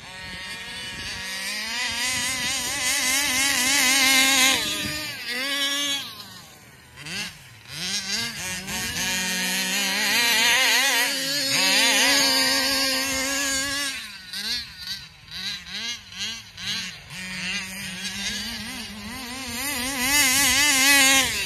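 A Taylor RC 35 reed engine in an RC car screams at high revs, rising and falling steadily as it races and pops wheelies, with the pitch dipping and climbing again across the run and a brief lull midway.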